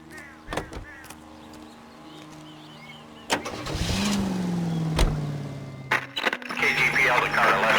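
Car starting up in the video game L.A. Noire, a sharp ignition burst followed by a steady engine hum and a few clunks as it pulls away, under scattered voices and game sounds.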